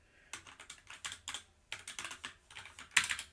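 Computer keyboard typing, a quick irregular run of close key clicks in short bursts with brief pauses, entered while coding a Rust program; no voice over the keystrokes.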